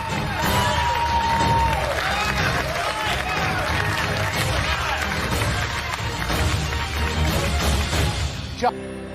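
A studio audience of home cooks cheers and applauds steadily in a cooking-competition kitchen, a dense, loud wash of clapping and shouts throughout, with voices mixed in.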